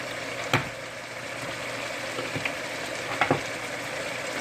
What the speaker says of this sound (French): On va rajouter aussi un peu de beurre normal, notre beurre blanc.